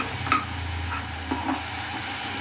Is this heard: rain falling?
no